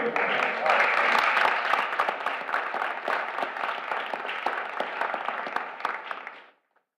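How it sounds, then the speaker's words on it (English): Applause at a Board of Commissioners regular meeting, with a crowd clapping steadily and loudly for several seconds before it fades out. "Give them a round of applause."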